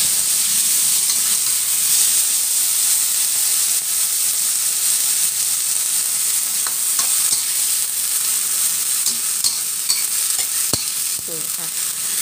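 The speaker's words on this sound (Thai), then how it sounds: "ตั้งกระทะแล้วก็ใส่น้ำมันนิดเดียวนะคะใส่นิดเดียวเด้อจ้าแล้วก็ใส่แม่งกี้ซ่อนที่เฮาล้างน้ำความสะอาดไว้ลงไปได้จ้า" Mole crickets frying in a wok with a little oil make a steady, loud sizzle, broken by occasional scraping and clicking as the spatula stirs them, with no talking.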